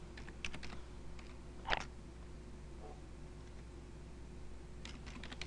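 Short runs of key clicks on a computer keyboard while entering switch port security commands, fairly close and light, with a sharper tap near the start and quiet gaps between runs.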